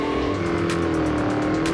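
A race car in the Real Racing 3 video game revs hard at full throttle while spinning a reverse donut. A loud, steady engine roar runs throughout, with a faint hiss of tire squeal over it.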